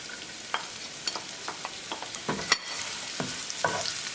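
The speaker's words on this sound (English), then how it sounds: "Bring ginger, green chili and garlic." Ginger, green chili and garlic fry in hot oil with cumin seed, a close, steady sizzle punctuated by regular scraping stir strokes from a spatula in the pan.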